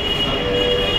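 A Dhaka metro rail train at a station, a loud steady rumble with a sustained high-pitched electric whine and wheel squeal, close and continuous with no talk.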